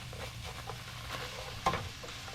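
Onions frying in a pan for taco stuffed shells, a gentle continuous sizzle with scattered scraping stir strokes and one sharper clink of a utensil partway through.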